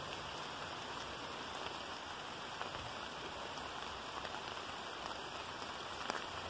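Steady rain falls in a dense, even hiss of drops hitting surfaces outdoors under a tree, continuous and close with no voices.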